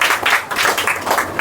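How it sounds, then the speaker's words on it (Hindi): Steady applause from an audience fills the space as a student is honoured with a prize at a school monthly exam award ceremony, dense, continuous clapping throughout. "जोरदार ताली बजाओ इनके लिए भैया"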